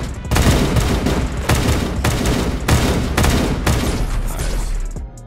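Rapid bursts of gunfire in a Roblox aim trainer game, loud and dense, firing in several sustained volleys separated by short gaps, heard close and alone without talk.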